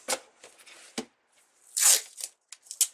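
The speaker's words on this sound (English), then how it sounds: "I'm going to put some tape on here" Strip of tape pulled off a roll for a top hat wreath embellishment: a few short, close, ripping bursts with quiet pauses between them, the loudest pull coming about two-thirds of the way through.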